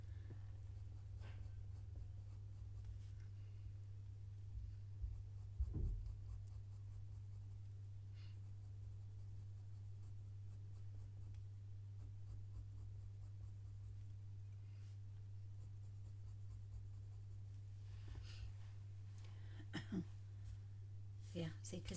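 A pencil scratches softly on paper while drawing a fox's face, faint intermittent strokes over a steady low hum, with occasional light taps.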